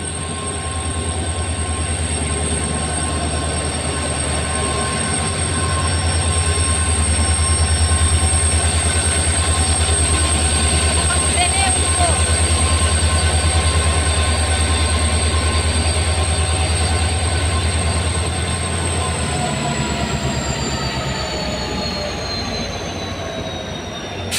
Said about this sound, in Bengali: বন্ধুরা ট্রেন ঢুকে গেল